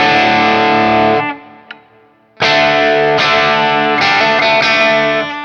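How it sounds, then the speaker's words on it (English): A Vola Vasti Telecaster-style electric guitar on its rail pickup at high gain rings out a loud sustained distorted chord, falls nearly silent with a faint pick click, then hits a run of repeated driven chords. "having the rail pickup in the back definitely lets you play with a lot more gain than a regular Telecaster"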